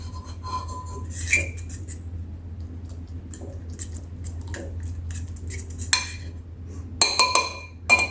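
Chicken marinade being stirred with cornflour in a bowl for drums of heaven: scattered clinks of a spoon against the dish and soft wet squishing over a steady low hum, with a few sharper clatters near the end.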